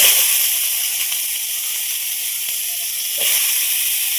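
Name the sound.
mango pieces added to hot oil with mustard seeds in a wok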